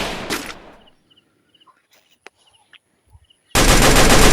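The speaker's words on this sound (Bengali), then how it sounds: "একবারে গুলি শব্দ করে।" Gunfire in the mobile game Free Fire on a custom map: loud bursts of shots at the start and end, with a quiet gap between that holds only scattered faint clicks.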